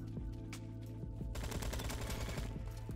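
Rapid automatic fire from an AKS-74u in the Roblox shooter Bad Business, a continuous dense burst of cracking shots with a steadier, louder stretch after the first second, over a constant low game hum.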